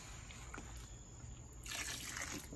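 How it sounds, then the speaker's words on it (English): Water poured slowly into a bucket of concrete mix while it is stirred for a fish habitat build, giving a soft, close trickle and splash that turns louder and more spattery partway through. "So you're just going to want to slowly add the water in"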